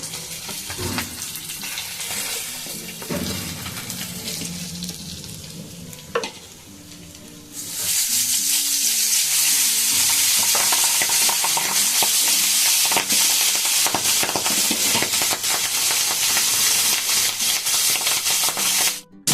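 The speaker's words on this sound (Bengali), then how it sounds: "মাছগুলোকে আমি লাল লাল করে ভেজে নিলাম" Pabda fish fry in hot oil in a home kitchen, a quiet sizzle with stirring that erupts into a loud, steady, crackling roar when more fish go into the pan.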